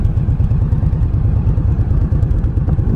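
A 2018 Indian Scout motorcycle engine idles at about 1100 RPM, giving a steady, close, low rumble with an even, rapid pulsing throat that never changes pace.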